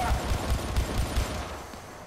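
Single-shot fire from an SMG in the Syndicate game lands as a quick, evenly spaced run of six loud shots over about a second and a half, then fades.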